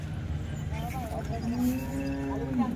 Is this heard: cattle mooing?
yes